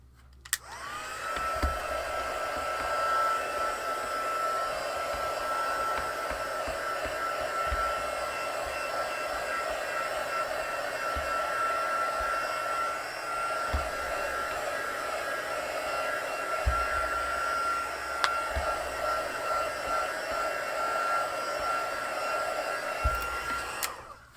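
A handheld craft heat tool blows continuously as it dries Tim Holtz Oxide spray ink on paper, a steady close whirring roar that starts abruptly and holds for the whole stretch.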